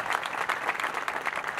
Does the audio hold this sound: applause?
yes